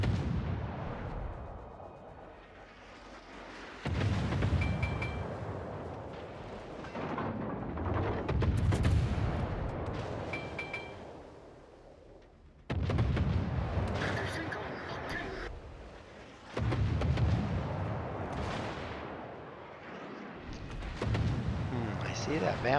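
Atago heavy cruiser firing high-explosive shells in the World of Warships naval game, with deep booming salvos that roll out at intervals over a constant rumble, under a voice talking.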